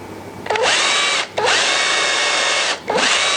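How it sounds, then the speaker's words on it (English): A power drill whirs up to speed three times in quick bursts, drilling a shallow screw hole in a bowl, each run steady and loud, with short pauses between. "I'm going to drill a hole in there to accommodate a screw"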